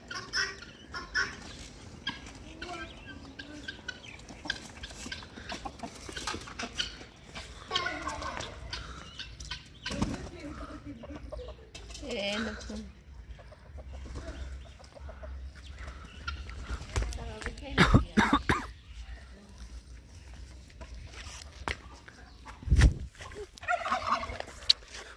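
A guinea fowl and a rooster fight in a yard, with bursts of squawking, gobbling and clucking amid scuffling, sharp flaps and knocks scattered through the scene, while someone talks excitedly over it.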